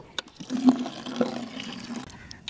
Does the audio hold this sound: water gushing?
yes